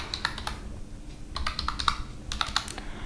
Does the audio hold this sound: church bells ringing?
no